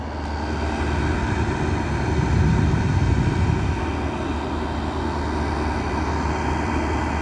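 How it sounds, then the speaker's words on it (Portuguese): A homemade blower turbine built for a used-oil stove runs steadily at close range. It makes a loud, continuous roaring whoosh of air that swells slightly midway and then holds a constant drone. "E aqui ele sugando o vento, ó. Tá aí a nossa turbina aí, ó."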